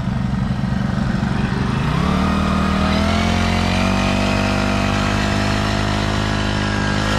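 A motorized crop sprayer with a gold Italian turbo spray lance revs up: a loud, close small engine climbs in pitch over a couple of seconds, then holds a high, steady whine.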